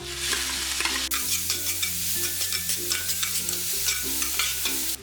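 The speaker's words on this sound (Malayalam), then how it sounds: "ഇതിലേക്കിനി 2 സവാള ചെറുതായിട്ട് അരിഞ്ഞത് ചേർത്ത് വഴറ്റി കൊടുക്കാം." Two finely chopped onions sauté in about 50 grams of butter in a pan, giving a steady loud sizzle with repeated scraping stir strokes throughout.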